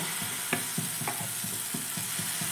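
Wheat and potato batter for a paratha sizzles on a lightly oiled pan, a constant frying hiss with regular soft scraping taps as a ladle spreads it round.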